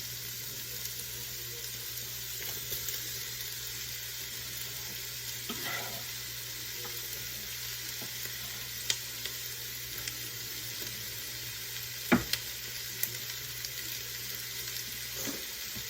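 Chili ingredients frying in a pan give a steady, moderately quiet sizzle throughout, with a few sharp clinks of utensils against the cookware and no speech.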